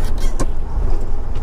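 A truck engine labors as it climbs a steep road, a loud continuous low rumble with a brief knock partway through.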